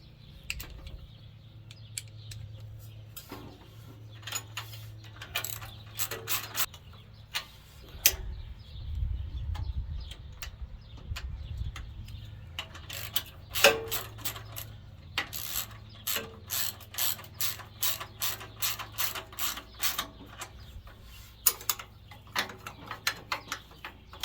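A hand ratchet tightens a bolt while drive belts are fitted on an Earthquake Victory garden tiller, giving rapid bursts of close, crisp clicking with short pauses and a low background hum.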